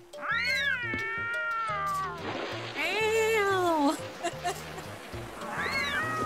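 Cats in the video game Petz Catz 2 meow repeatedly, drawn-out and fairly loud, over a looping game melody, and a person talks in places.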